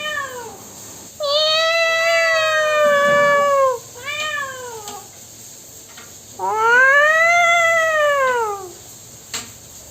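A house cat meows repeatedly in a home kitchen where mackerel and Bombay duck fish are being fried. Three long, loud, close meows rise and fall, with short pauses between them.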